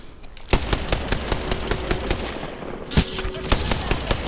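Charge rifle firing in a video game, rapid sharp bursts of repeated shots with loud cracks near 0.5 and 3 seconds, over a droning game backdrop.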